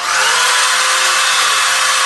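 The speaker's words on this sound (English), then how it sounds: "Okay, then we drill this." A power drill whines loudly and continuously, drilling through material for a chin-up bar at close range for the whole stretch, with no talking.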